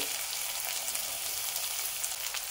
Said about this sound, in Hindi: कांदे छान फ्राय होऊ द्यायचे आहेत